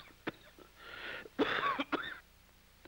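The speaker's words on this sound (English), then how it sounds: "The sick person coughs often during the night." A sick person with tuberculosis coughs at night in a crowded, poorly ventilated room, giving several harsh, throaty coughs and throat-clearing bursts in irregular clusters, close and moderately loud, with no talk.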